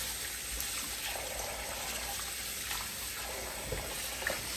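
Water runs steadily from a kitchen sink tap while oxtails are washed, a soft continuous trickle with faint splashes and no talking.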